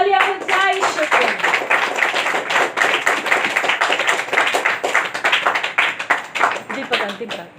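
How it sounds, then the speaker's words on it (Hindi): A church congregation applauds loudly and steadily, a dense crowd of hands clapping together that carries on for several seconds before it begins to thin out. "जोरदार तालियां बजाएं यीशु को।"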